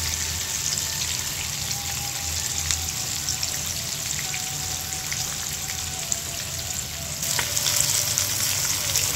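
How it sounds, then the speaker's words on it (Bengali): Hilsa fish frying in a pan, a steady dense sizzle with faint crackles running throughout, growing slightly louder and brighter near the end. "দেখুন বন্ধুরা, মাছটা আমার ভাজা হয়ে গিয়েছে এক পাশ। এখন অন্য পাশ ভেজে নেব।"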